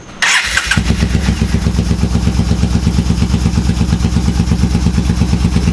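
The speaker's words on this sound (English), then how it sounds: "It's idling very weird." A Yamaha Bolt motorcycle engine, freshly reassembled with a Power Commander fuel controller, cranks and fires, then settles into a loud, steady, lumpy idle with a rough, uneven pulse, as if running on one cylinder.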